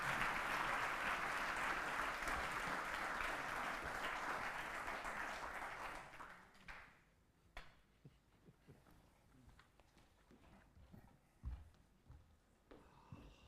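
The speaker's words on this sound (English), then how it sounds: "give our panelists a round of applause" A conference audience at a main-event livestream applauds its panelists: dense, sustained clapping for about six seconds that then thins out into scattered claps, shuffling and chair noise.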